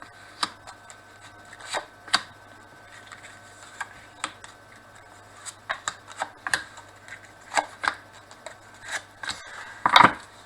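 Tarot cards being cut and shuffled, a string of light, irregular close-up taps and flicks of card stock, with a busier flurry near the end.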